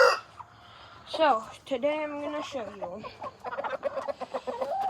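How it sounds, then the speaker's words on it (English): Backyard chickens and a rooster at a grandmother's place clucking and crowing in a drawn-out call, with scattered clucks continuing while a person talks nearby. "That's our rooster,"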